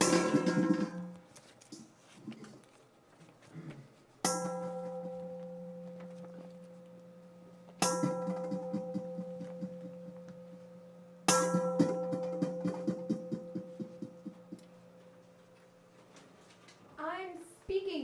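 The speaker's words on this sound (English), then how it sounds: "Those bells you hear are ringing to warn the people to evacuate as the Martians approach." Bells ring to warn people to evacuate ahead of approaching Martians, heard from atop the Ventana Inn in Big Sur in an amateur radio drama. Four loud, sustained strikes sound at intervals, each ringing out and slowly decaying, with a short burst of other noise at the end.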